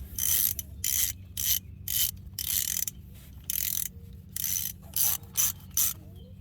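A hand ratchet snugs up bolts on a Jeep XJ Chrysler 8.25 axle, giving repeated bursts of rapid clicking pawl strokes separated by brief pauses, close and crisp, with no talking.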